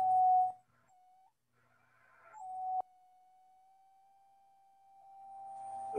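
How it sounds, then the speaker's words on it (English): A spy radio transmitter's signal picked up on a shack receiver: a thin steady tone that breaks off, briefly returns, then holds clear for several seconds, with a faint chirp and quiet background. "I'll let you hear the transmitted signal on my shack receiver."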